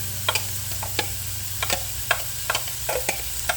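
Ground beef and fresh onion frying in a pan for crispy beef tacos: a steady close sizzle broken by regular sharp scrapes and taps of the stirring utensil, with no talking.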